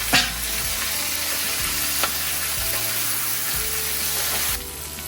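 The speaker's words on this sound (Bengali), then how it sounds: "আর এবারে এই সমস্ত সবজিগুলো দিয়ে এটাও একটু ভেজে নেব।" Vegetables frying together with pieces of boneless chicken breast in a pan, a steady loud sizzle broken by several dull stirring scrapes roughly every second, with no talking.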